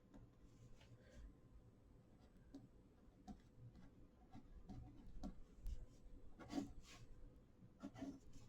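Pen scratching across paper while working through matrix arithmetic, a quiet rubbing and scraping with scattered light ticks and taps, close and faint over a low room hum.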